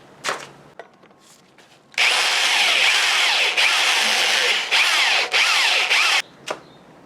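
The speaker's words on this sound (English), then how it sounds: "I'll start with this one because somebody already started drilling it out." An electric drill bores out a part on a Ford Model T rear axle, running loud and close in several sustained bursts with short pauses, framed by a few metallic knocks before and after.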